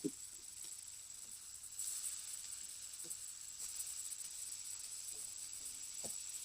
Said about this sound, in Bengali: এই বাকি মাছগুলো ভেজে নিচ্ছি।